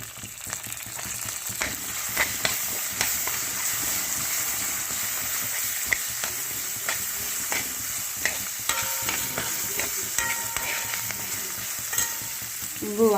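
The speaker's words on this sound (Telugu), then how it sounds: "బాగా ఫ్రై చేసేసుకున్నాక పచ్చిమిరపకాయలు వేసుకోవాలండి" Green chillies fry in oil for tomato pachhadi. A steady close sizzle runs throughout, punctuated by regular metallic scrapes and taps from stirring.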